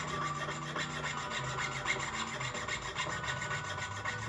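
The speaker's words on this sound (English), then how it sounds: "I'm sawing at about a 30-degree angle that's going through in a straight line." A jeweller's saw cuts through solid silver for hoop earrings, giving a quiet, fast, rhythmic rasping of short strokes close by with no voices.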